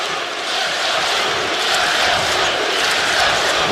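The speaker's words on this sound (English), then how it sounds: "Listen to the partisan Michigan crowd." Partisan Michigan home crowd at a college basketball game against Tennessee roars in a steady, dense wash of cheering that holds loud and unbroken throughout, with no distinct voices rising above it.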